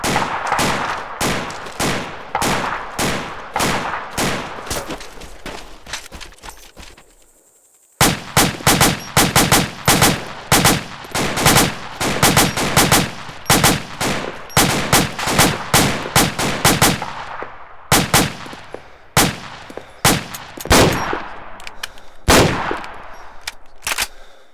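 Rapid bursts of enemy gunfire in the video game Arma 2 during a night battle, dense crackling volleys that cut out briefly and resume as sharp repeated shots, loud and close, with no talk.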